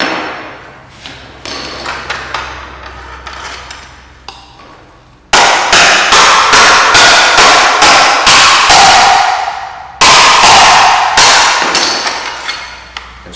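Metal garage door bracket being straightened with a hammer, loud repeated ringing blows in quick bursts, two pauses breaking three runs of rapid strikes, no talking.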